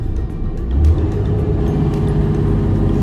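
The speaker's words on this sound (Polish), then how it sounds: "2000 obrotów od razu mu wkręca i ten silnik po prostu wyje" A loud diesel Mercedes van engine revs high to about 2000 rpm and holds a strained, droning, howling roar for several seconds, with a brief surge near the start.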